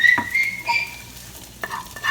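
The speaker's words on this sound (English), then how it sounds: "So I'm gonna also saute some onions and add that into here." Onions sauté in a pan with a steady, close sizzle broken by a couple of sharp scraping stirs. Fairly loud, and no one speaks.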